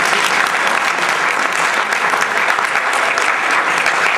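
A mushaira audience breaks into dense, sustained applause, loud and close, with no pause across the whole stretch.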